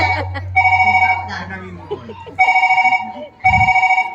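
A telephone rings in repeated electronic bursts, three trilling rings separated by pauses, with a person talking in between.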